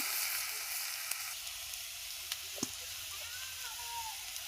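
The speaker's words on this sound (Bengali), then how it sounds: "তো প্রথমে আমি কড়াই তেল দিয়ে পিঁয়াজ কুচি দিলাম" Chopped onion and ground green chili, cumin and spice paste frying in oil in a kadai: a steady, bright hiss of sizzling with a few faint ticks and clicks.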